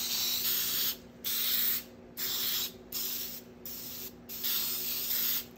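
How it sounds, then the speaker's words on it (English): Spray paint hisses onto a wooden laser-cut backer in five or six sharp bursts, each about a second long, separated by short pauses. The sound is bright and airy and fairly close. "so we're gonna go ahead and spray it."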